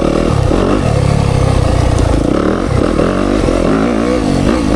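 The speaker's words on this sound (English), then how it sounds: "You can grab a handful of throttle here and there through these woods." A Yamaha YZ FX dirt bike engine roars loud and close in the woods, rising and falling through throttle blips with a rough, clattering tone that never lets up.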